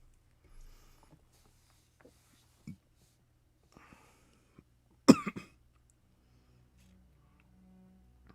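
A person coughs during a gaming session, a few faint scattered throat sounds and then one sharp, louder cough burst followed by a short trailing cough, in an otherwise quiet room.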